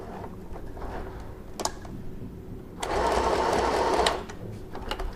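A FHSM-519 electric sewing machine runs a short stitching burst of about a second, a close, steady mechanical whir that rises out of a quiet room and then stops.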